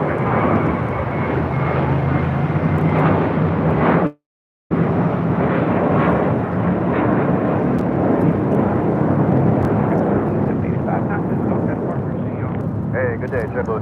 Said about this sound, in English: This is JetBlue Airways 2785 taking off to Miami, Florida on an A321.